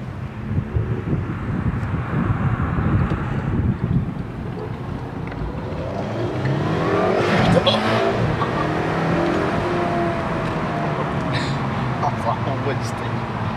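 Ferrari 348TS convertible driven at full throttle on the open road, engine note rising as it accelerates hard, heavy wind rush over the open cabin, and people talking over the noise.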